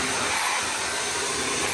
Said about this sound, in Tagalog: At ngayon, panlinis muna natin dyan is vacuum.